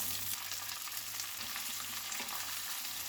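Steady, dense sizzling of onions frying in hot oil for matar paneer, loud and close, with a faint low hum underneath and no talking.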